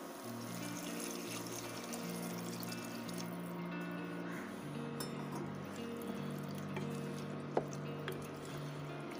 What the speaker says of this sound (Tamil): அப்போ குழம்புக்கு தேவையான அளவு தண்ணி ஊற்றிக்கலாம்.